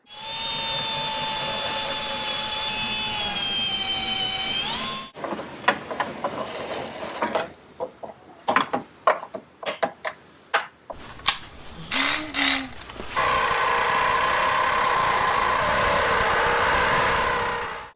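A power tool runs steadily while opening up a hole in the frame of a Jeep Cherokee XJ during a rear bumper build, with bursts of drilling or grinding broken by pauses and irregular scraping, then a long steady run, all close and loud.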